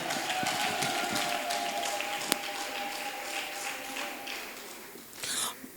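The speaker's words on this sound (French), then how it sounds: "Est-ce que nous pouvons encore applaudir fortement pour madame?" An audience claps for a woman at a launch event for twelve preschool teaching guides in the DR Congo, a dense, steady patter of many hands at moderate level that thins out toward the end.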